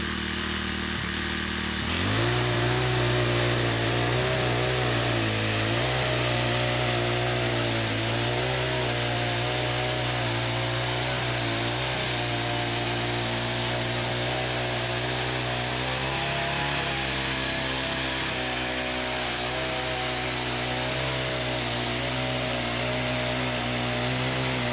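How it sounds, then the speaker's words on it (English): A Tilther power cultivator starts up and runs continuously over a no-till garden bed, a loud buzzing motor whine that shifts slightly in pitch as it works back and forth. "Now, ran the tilther back and forth a couple times."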